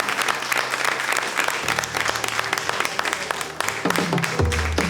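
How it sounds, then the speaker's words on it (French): Studio audience applauding on a French TV singing show, a broad sustained wash of clapping, while music with low sustained tones swells underneath and grows louder toward the end. "on va l'applaudir"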